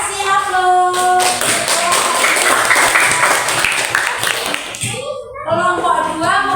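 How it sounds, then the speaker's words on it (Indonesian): Classroom applause for a student group presenting on the Psalms, a dense burst of clapping from many hands that runs steadily, then thins and fades as a teacher's voice comes back in at the end. "kasih aplaus"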